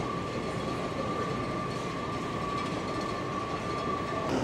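Washington metro train running, a steady loud rumble with a sustained high whine and faint rail clatter, no voices.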